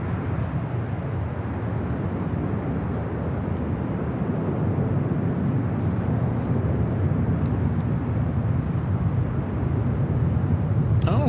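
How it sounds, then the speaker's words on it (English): A Qantas Airbus A330 taking off from the south side of the airport, heading to Brisbane, gives a steady, broad engine roar that holds at moderate level for the whole stretch, with no voices over it. "Have a Qantas A330 taken off on the south side"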